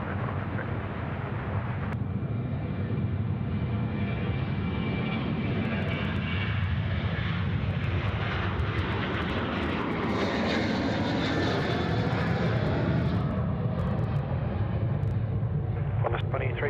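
Aircraft engines roar at Sydney Airport, a loud, steady, broadband rumble that swells through the middle and holds throughout, with faint voices beneath.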